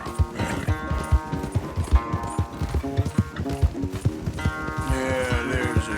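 A horse gallops in the Western video game Red Dead Redemption 2, its steady, rhythmic hoofbeats thudding close and loud over a swelling orchestral score.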